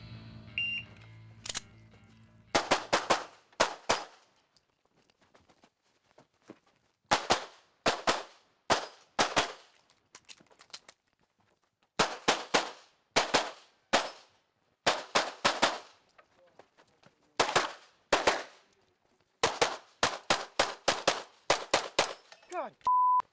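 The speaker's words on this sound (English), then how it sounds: "a little bit of shooting on the move as well, some tight, difficult shots" Gunshots ring out during a timed competitive shooting course, shot on the move with tight, difficult targets: loud sharp reports in quick strings and pairs, spaced by short pauses, continuing through most of the run.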